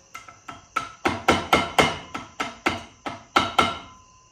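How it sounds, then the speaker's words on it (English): A flathead screwdriver tapping around the edges of a clip on a custom Skyline driveshaft, about a dozen sharp metallic knocks in a steady rhythm, close and loud with no talking. "Just tap around the edges with the flathead."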